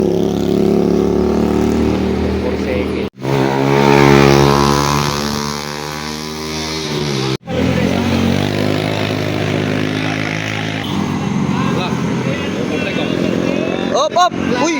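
A Wave motorcycle rides past with a loud, steady engine drone that changes pitch, while several people shout and cheer over it.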